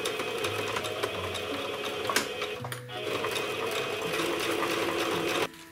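A sewing machine stitches a seam on a fabric spray case pouch, a steady close mechanical whirring with brief pauses and restarts before it stops abruptly at the end.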